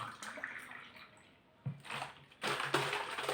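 Sandora lemon nectar poured into a glass, a soft liquid splash in two short bursts, the second longer and fuller, close and fairly quiet.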